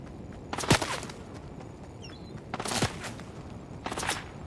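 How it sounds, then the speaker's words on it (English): Three separate bursts of gunfire in a Fortnite Battle Royale match, each a quick rattling volley at moderate distance, separated by quieter gaps with faint ambient noise. "Who's shooting there?"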